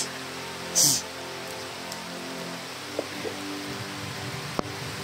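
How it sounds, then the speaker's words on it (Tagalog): Heavy rain falling on thick leaves outdoors, a dense steady hiss of drops with occasional louder splats and a brief burst of noise near the start. "Sobrang lakas na yung ulan tol."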